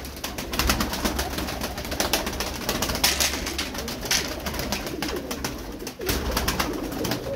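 A female blue tumbler pigeon coos in soft repeated calls close by, with fluttering and rustling among other birds in a loft.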